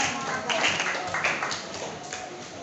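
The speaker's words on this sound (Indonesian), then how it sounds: "Tepuk tangan dulu dong buat kelompok 6." A classroom group claps for a team of students, a steady, dense patter of many hands at moderate loudness throughout, with some voices mixed in underneath.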